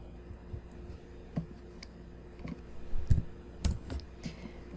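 Scattered keystrokes on a computer keyboard while working in AutoCAD, a few soft clicks and a couple of sharper taps spaced irregularly against a quiet room hum.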